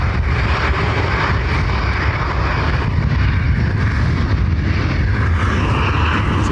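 An airliner departing runway 10R at Dublin Airport, a loud continuous broadband engine roar that holds steady throughout with no other sounds standing out.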